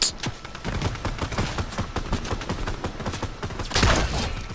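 Rapid bursts of video game gunfire and sniper shots crack in dense, repeated volleys throughout, loud and close, with one heavier blast near the end and no talking.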